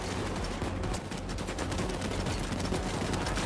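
Sustained rapid gunfire from automated turrets in a video game, a dense continuous barrage of shots at steady loudness with no pauses.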